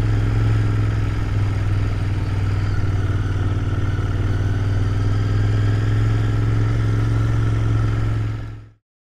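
A Royal Enfield Interceptor 650 motorcycle engine runs loud and steady with a strong low drone and mechanical clatter throughout, then cuts off abruptly near the end.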